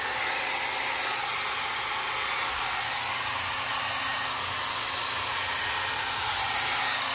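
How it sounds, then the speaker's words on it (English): A hair dryer blows steadily and loudly the whole time, drying paint on canvas, a constant airy whoosh with a low motor hum and no other sounds. "So I'm gonna turn the hair dryer on."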